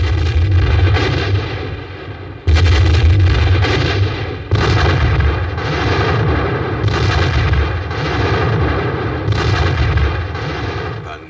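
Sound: artillery battery firing salvos

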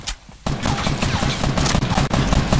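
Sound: gunfire in Fortnite video game

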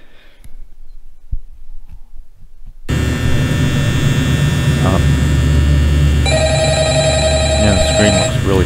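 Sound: telephone ringing in Five Nights at Freddy's video game

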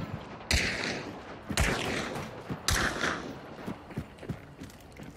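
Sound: shotgun fire in the video game Hunt: Showdown

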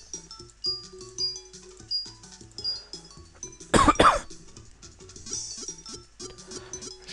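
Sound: coughing

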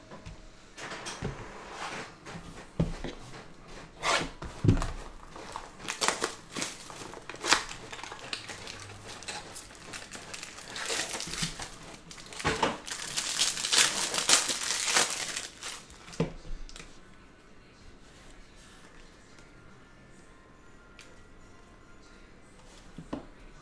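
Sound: ripping open NBA trading card packs

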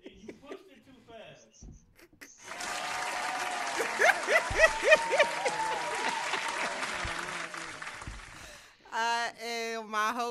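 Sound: applause sound effect on podcast

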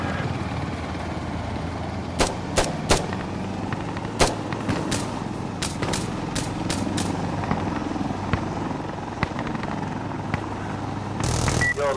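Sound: helicopter in a video game

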